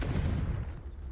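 A Confringo blasting spell explodes in Hogwarts Legacy, a short deep boom with a broad rumbling burst that fades quickly over about a second.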